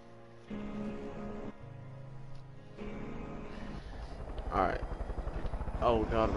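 Helicopter engine drone in the video game Far Cry 5, a steady low rotor rumble with sustained tonal hum that swells louder toward the end, with people talking over it.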